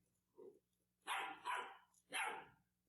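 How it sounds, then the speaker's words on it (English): A dog barks three times in loud, sharp bursts after a soft lower yelp, close to the listener, with a faint steady hum beneath. "They're barking at the map."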